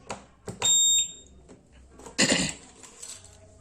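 A Honda PCX 160 scooter's keyless alarm gives a short sharp electronic beep among clicks and handling noises, followed by a brief burst of rustling clatter.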